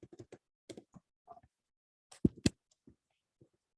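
Computer keyboard typed on in short irregular bursts, crisp close key clicks separated by brief silences.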